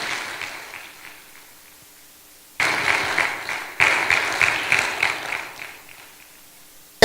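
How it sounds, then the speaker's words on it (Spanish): After a quiet stretch, a church congregation breaks into applause in two rising waves of dense, distant-sounding clapping that fills the room and continues steadily, with no clear talk. "Démosle un aplauso al Señor"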